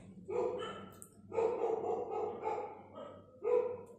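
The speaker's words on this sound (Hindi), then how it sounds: "कुत्ते भौंकने की आवाज" A dog barks in a few loud, close bursts of yaps and yelps, with short gaps between them and no talk.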